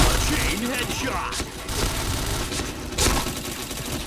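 Dense bursts of rapid gunfire from a shooting video game, loud and continuous with repeated volleys and booms, while voices talk over the action.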